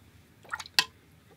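Water is added to a watercolor palette, making a short wet drip followed by a sharper splashy squish, both brief and close, with no talking.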